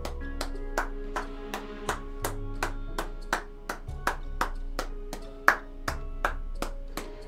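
Rhythmic claps from a game character in Supraland, a steady series of sharp, evenly spaced hits over a tonal music bed, moderately loud and close.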